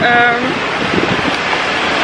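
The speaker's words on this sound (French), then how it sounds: "il y a quand même un peu de vent" Wind blows outdoors in Fort-de-France, Martinique, as a short burst of rough, broadband rushing noise buffeting close to the microphone.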